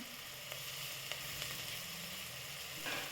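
Onions with coriander and mint sauté for a mushroom biryani, giving a faint, steady sizzle with a few light stirring clicks and no voices.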